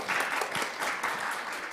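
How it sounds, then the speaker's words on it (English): An audience at a sustainable finance forum claps in steady, dense applause, close and moderately loud throughout, with no talking. "crowd just applauding you"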